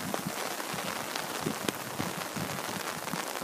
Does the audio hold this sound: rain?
yes